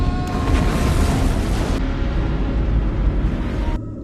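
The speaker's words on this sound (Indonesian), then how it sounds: "Ledakan bom yang dihasilkan mendorong kepala pesawat Event Horizon keluar dari atmosfer Neptunus." A bomb explosion in a science-fiction film, detonated aboard the spaceship Event Horizon in Neptune's atmosphere: a loud, sustained deep roar and rumble lasting several seconds before cutting off abruptly.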